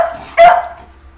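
A dog gives a single loud bark at close range in a home, the sharp burst rising over quiet room tone and fading quickly.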